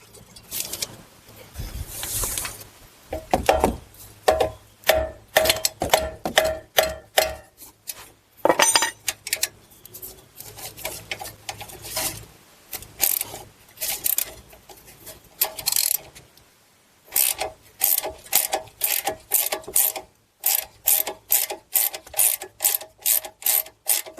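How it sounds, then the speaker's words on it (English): Quick metallic clicking of a ratchet turning a pass-through socket on a sway bar link nut on a Buick Enclave, Chevy Traverse or GMC Acadia, coming in bursts of rapid clicks with short pauses between them. "I'm going to use this pass-through socket here because it just makes it a little bit easier"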